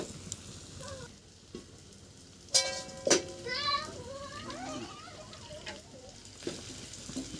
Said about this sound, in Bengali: এবারে জলটা মশলার মধ্যে দিয়ে দেব।